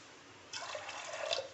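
Water trickles and splashes into a pressure cooker holding soaked chana, a short, soft pour starting after a brief quiet moment and continuing steadily to the end.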